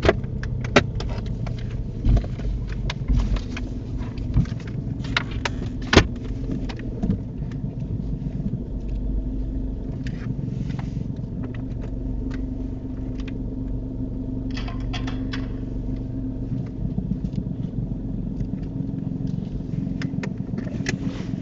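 Car moving slowly forward into a parking bay during a UK mock driving test, heard from inside as a steady low engine and road rumble with no talking, a few light knocks and rattles scattered through.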